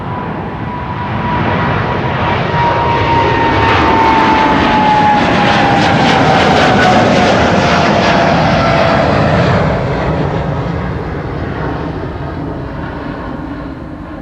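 A brand-new airliner, less than a year old, departs Schiphol's runway 24 Kaagbaan with a loud jet roar that swells, carries a slowly falling whine as it passes close, then eases off.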